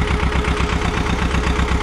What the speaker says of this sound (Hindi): यो भाई सर 312 एकदम सक्सेसफुल, बढ़िया ट्रैक्टर है एकदम इस पीटीओ इस मामले में